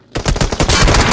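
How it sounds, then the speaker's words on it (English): Rapid automatic fire from a SCAR rifle in the battle royale game PUBG Mobile, a loud close burst of evenly spaced shots that merges into a continuous roar near the end. "trying to take some shots with the Scar"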